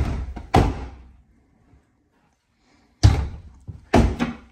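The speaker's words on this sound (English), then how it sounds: "Kick that door open, Jacob." Heavy door thuds in a hunting video game: a sharp slam, a pause of silence, then two more forceful bangs in quick succession, close and loud.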